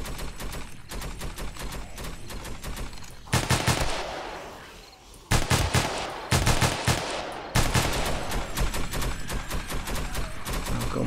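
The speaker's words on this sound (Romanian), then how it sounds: "Ce mișto sună arma, nu știu ce armă are." Rapid automatic weapon fire in a video game, near and loud, in long rattling bursts with brief pauses between volleys and no talk.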